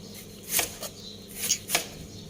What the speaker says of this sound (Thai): แล้วก็อันนี้เป็นหอมแขกค่ะนำมาซอยนะคะ มาหั่นเป็นชิ้นเล็กๆค่ะ